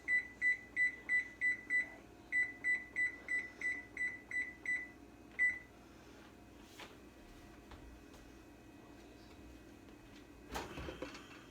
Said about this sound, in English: So let me set my timer for 15.